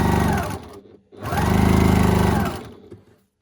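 A sewing machine stitches a quarter-inch quilt seam in two close, steady whirring bursts, separated by a brief pause, before stopping.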